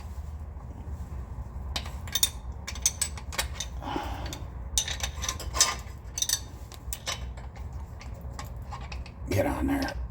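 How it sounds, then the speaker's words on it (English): A ratchet snugs a 9/16 adjuster nut back tight on a V10 Ram, with scattered irregular clicks and clatter against a low background rumble, plus a brief quiet murmur near the start. "Now you can tighten your nut back up and lock it into place."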